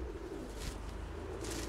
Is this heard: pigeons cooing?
yes